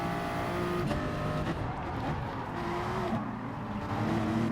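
Toyota GR Supra Gr3 race car engine in Gran Turismo Sport at Interlagos, a steady loud drone from the cockpit with pitch dips as it downshifts into second gear through a chicane on cold tires.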